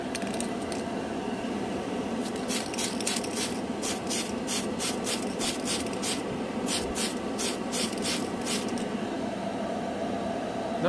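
Tamiya Metal Colors aluminum spray can applied in a series of short hissing bursts over a steady background hiss, close and fairly loud, with no talking.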